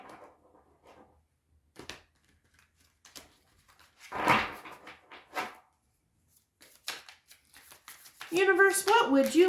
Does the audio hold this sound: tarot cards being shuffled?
yes